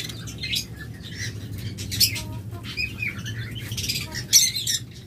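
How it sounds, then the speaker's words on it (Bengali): Budgerigars in a bird breeding and sales setting, squawking and chirping in scattered short calls with brief wing flutters over a steady low background hum, moderately close. "খুব ভালো মানের বাজরিগার রয়েছে।"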